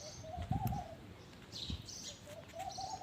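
Soft bird cooing repeats in short low bursts, with faint chirps higher up, against a quiet outdoor background and no talking.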